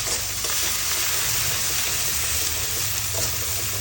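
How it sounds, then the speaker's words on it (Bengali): Country chicken sautés in a pan with salt and spices, producing a dense, steady close sizzle with faint stirring scrapes throughout. "লবণ তারপরে এটা দিয়ে আমরা একটু কষিয়ে নেব"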